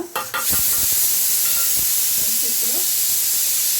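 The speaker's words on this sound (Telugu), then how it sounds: "పసుపు పులుసు మరుగుతుందండి" Turmeric and tamarind stew boiling in a pot; a steady steamy hiss and bubbling fills the whole clip after a few brief knocks at the start.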